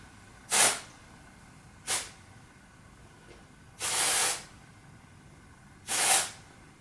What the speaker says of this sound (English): I just hit the few greasy spots with the dry shampoo